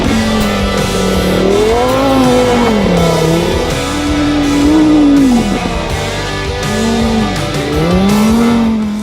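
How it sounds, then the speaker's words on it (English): A Lamborghini Huracan Sterrato off-road supercar launches and accelerates hard on a desert track, its loud engine note rising and falling through repeated gear changes, close and alone without talk. "the thing about launching an off-road supercar at a track in the middle of the desert"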